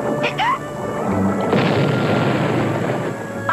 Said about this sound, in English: I drop just one drop, Azriel, or the whole thing will explode.